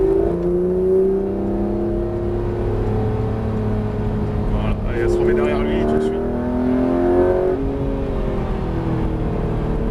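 A Porsche 991 GT3 RS accelerates hard on the Alès circuit, its engine note climbing steadily through the revs, loud and sustained, while an instructor speaks over it from inside the car.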